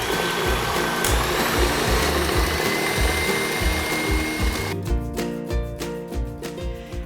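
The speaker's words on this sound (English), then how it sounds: "We'll put this in our blender" A blender running on high whips two cups of heavy cream, a steady loud motor whine with grinding texture that shifts pitch near the end as the cream thickens.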